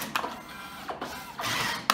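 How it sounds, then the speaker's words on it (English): A DNP RX1 dye-sublimation photo printer feeds out waste sheets during paper alignment, giving close mechanical whirs and short bursts of sheet movement with a sharp click near the end. "the printer will spit out some waste sheets to help align the paper"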